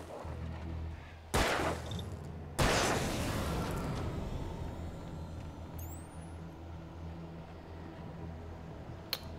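Two loud gunshots ring out in Alan Wake Remastered, a sharp blast followed about a second later by a heavier one, each trailing off into a long rumbling decay over low ambient noise, with a faint click near the end.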